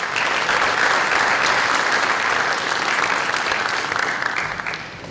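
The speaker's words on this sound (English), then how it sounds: "the parents deserve a big round of applause" Sustained applause from an audience at a high school athletic signing ceremony, steady and loud throughout, honoring the parents and tapering slightly at the end.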